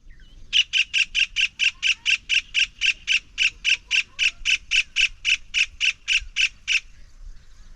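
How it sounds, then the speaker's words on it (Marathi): A kingfisher perched in a tree gives a rapid series of about twenty loud, sharp, evenly spaced calls, close by, over faint low background rumble. "खंड्या पक्षी बसलाय वर लिंबाच्या झाडावर"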